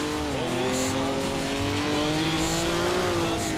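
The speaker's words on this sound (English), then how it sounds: "And that is the sound of a happy engine." A race car in the Assetto Corsa VR driving game holds a steady, smooth engine note that climbs gently in pitch, running alone and fairly loud for a few seconds with faint tire noise underneath.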